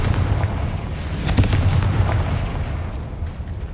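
A Confringo spell blast in Hogwarts Legacy erupts as a loud, rumbling explosion with sharp crackling bursts near the start, followed by a sustained low roar that slowly fades.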